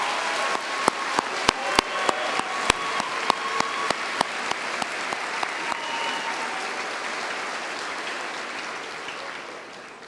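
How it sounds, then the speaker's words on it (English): Applause from an assembly audience for graduating high school seniors standing in white stoles, steady dense clapping with sharp individual claps standing out early, filling the hall throughout. "Let's give them a round of applause."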